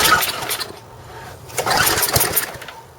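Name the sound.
snow blower engine trying to start, popping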